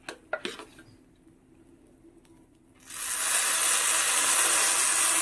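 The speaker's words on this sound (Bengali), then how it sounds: "এবার আমি এর মধ্যে সেদ্ধ করে রাখা মুগ ডালটা দিয়ে দেবো।" Boiled moong dal goes into a pan of fried rice: a few metal clinks, then a loud, steady sizzling hiss that fills the rest of the moment, with no talking.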